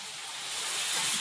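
Water poured into spiced meat masala frying in a pot for biryani gives a sharp rising hiss of steam and sizzle, loud and close, growing stronger over a brief moment with no speech.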